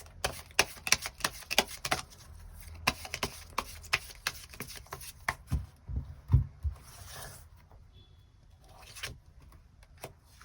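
Tarot cards being shuffled and drawn: rapid, crisp clicking and riffling in dense bursts, close and fairly quiet, slowing to scattered taps and soft slides toward the end, with no voice.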